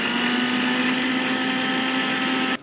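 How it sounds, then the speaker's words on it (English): A kitchen mixer grinder blends garlic cloves and thin ginger slices into a fine paste, a loud steady whirring motor drone holding constant for nearly three seconds before cutting off abruptly at the end. "To grind this to a fine paste."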